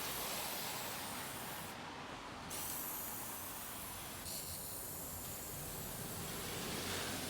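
A paint spray gun hisses steadily while coating the back of a cast iron radiator. The broad airy spray runs continuously with brief shifts in tone, fairly close and without speech.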